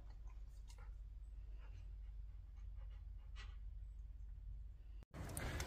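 Several dogs pant steadily close by, with soft whimpers breaking through, under a low constant hum, ending in a brief dropout and then a louder burst of noise.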